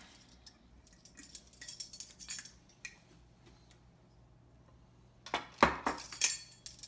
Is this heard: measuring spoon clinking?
yes